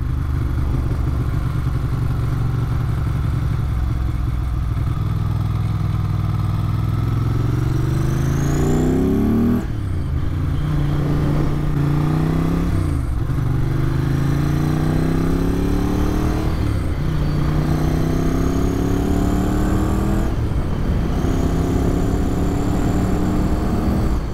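A 1994 Ducati 900 Supersport engine pulls loudly through repeated gear changes, each rising drone cut by a shift and picking up again, close and steady throughout with no talking.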